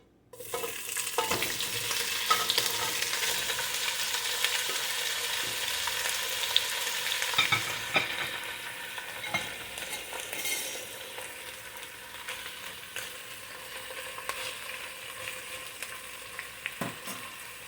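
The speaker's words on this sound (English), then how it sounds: "So we're going to saute this just a bit." Smoked turkey wing meat sautés in a pot with a continuous close, bright sizzle that eases slightly partway through, punctuated by occasional knocks and scrapes of stirring.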